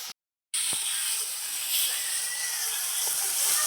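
Loud, steady sizzling hiss as water is poured into a pan of spices frying with tomato and onion, beginning suddenly after a brief silence and continuing close and unbroken.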